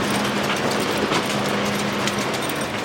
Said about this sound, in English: Tram line, tram.